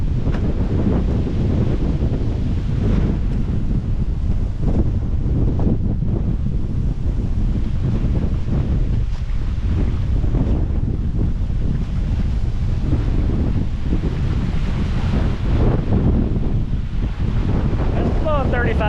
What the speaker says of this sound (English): It's blowing 35 knots still, you guys. It is still blowing for sure.